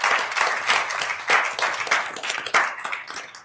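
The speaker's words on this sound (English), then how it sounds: "I think you ought to clap." Audience at a university board of regents meeting clapping in a moderately loud, lively burst of many hands that swells and dips in waves.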